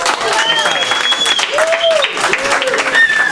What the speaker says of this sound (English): Let's give them some applause, please.